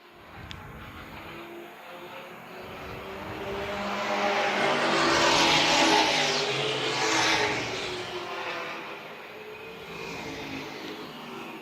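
Race cars on the Dillon Motor Speedway short track in South Carolina roar past at night. The engine noise swells to a peak and then fades, heard from a distance.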